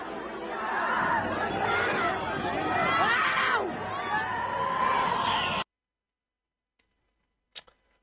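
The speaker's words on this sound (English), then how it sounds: "You can see the police are charging the crowd." A protest crowd as police charge, with loud shouting and chattering voices and agitated yells for several seconds that then cut abruptly to near silence, followed by a single faint click.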